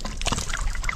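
Water trickles and splashes from the last mountain spring on a summer trek, a brief, close, steady burble with no voices.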